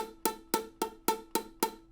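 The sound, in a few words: ukulele note with finger pressed too lightly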